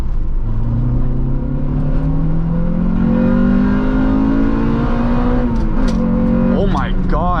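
A Honda Integra pulls hard through the gears, its engine note climbing steadily in a long rising whine before a shift, loud and close from inside the car.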